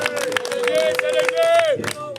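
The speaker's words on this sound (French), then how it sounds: "Un maximum d'applaudissements," An audience at a music show claps in quick bursts while someone speaks loudly over it with lively crowd noise.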